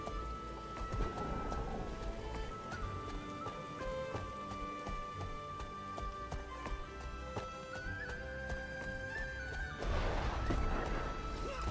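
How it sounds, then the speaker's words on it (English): Steady storm rain falling in the video game Guild Wars 2, a continuous wash of patter beneath layered game music, with no clear thunderclap standing out. "Don't want to be too close when the storm starts up."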